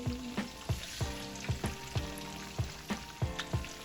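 Fish sizzles as it fries in a pan, with a steady crackle broken by repeated sharp clanks and taps of a utensil at an uneven rhythm, close and fairly loud with no talk.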